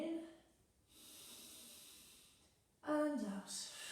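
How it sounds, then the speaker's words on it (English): A slow, soft inhale during a yoga session: a faint airy breath that swells gently for about two seconds, then gives way to a calm spoken voice. "Breathing in"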